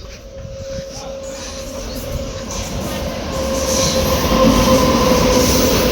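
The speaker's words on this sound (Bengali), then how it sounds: "Indian railways." An Indian Railways train rolls through Chapaguri station close by, its rumble and wheel noise growing louder toward the end, with a faint squeal of wheels on rail.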